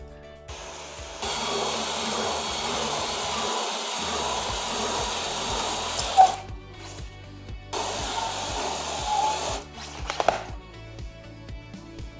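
A power tool cuts holes in a foam floor mat meant for ice fishing, giving loud droning bursts that stop and restart several times, close up, with clicks and handling noises between runs.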